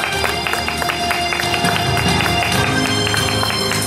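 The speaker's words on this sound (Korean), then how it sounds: "여러분 박수 한번 부탁드리겠습니다" A crowd at an outdoor urban regeneration festival applauds, a loud dense wash of clapping that runs steadily from start to finish with no pauses.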